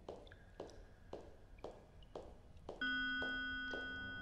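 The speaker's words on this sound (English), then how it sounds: "Got a fucking church bell now." A church bell tolls in the horror game Power Drill Massacre: a run of quiet, evenly spaced strikes about every half second, then a louder toll whose ring sustains and slowly fades.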